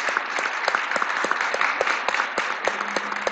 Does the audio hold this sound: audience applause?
yes